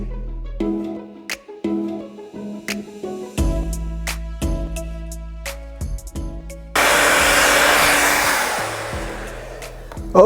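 Hair dryer running on medium-length men's hair, heard as a steady broadband whoosh that changes as it moves; music plays throughout, and the blower noise swells loud and dense near the end.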